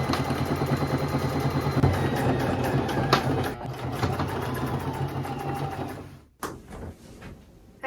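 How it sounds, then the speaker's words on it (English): A sewing machine stitches thrifted clothing fabric along a seam. The mechanical whir is steady, rapid and close for about six seconds, then stops abruptly, leaving a few faint handling noises. "So now we're just going to sew along this line here and then down to here."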